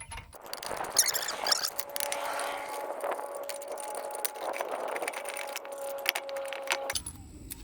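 Metal clinks, squeaks and jangling as lug nuts are worked off the front wheel of a 1999 Toyota Avalon XLS, a steady close run of small metallic scrapes and rattles with no talk.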